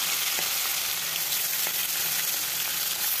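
Catla fish fry in hot mustard oil in an iron kadai, giving an even, loud, continuous sizzle with faint scattered pops and no talking.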